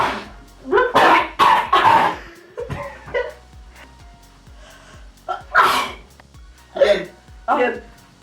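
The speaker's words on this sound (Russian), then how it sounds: "Я чихнул." Several sharp sneezes from a person, loud and close, bursting out in quick succession with pauses between them, mixed with short bits of talk and laughter in a room.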